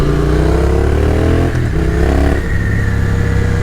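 Yamaha MT-09 motorcycle engine running loud and close, a steady throbbing drone with rising rev pitch that dips briefly midway, then settles into a sustained hum.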